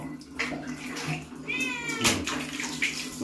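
A cat gives a short meow while being bathed, with water splashing and running around it and a brief louder splash midway.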